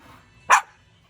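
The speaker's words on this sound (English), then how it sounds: "And there's Aria barking at them" Aria the dog gives a single sharp bark at chickens in a backyard coop, brief and fairly close against an otherwise quiet setting.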